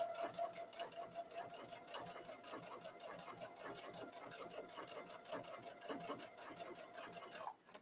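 A sewing machine runs steadily at a long 4.0 stitch length, stitching trench coat fabric with a fast, even mechanical rattle and a faint motor hum that stops abruptly near the end.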